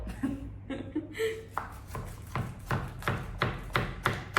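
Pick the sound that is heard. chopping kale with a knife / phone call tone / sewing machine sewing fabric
chopping kale with a knife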